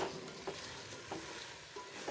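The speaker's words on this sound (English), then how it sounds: "Now stir this very well." A spoon stirs rice through masala in a pot, making soft rhythmic scraping strokes about every half second over a steady background sizzle, close and moderately loud.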